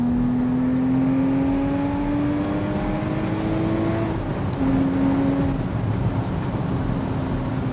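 Engine and exhaust of a Porsche 981 Boxster Spyder on the road, a steady droning note that rises slowly, dips briefly at a gear change, then resumes, loud and close with no talk.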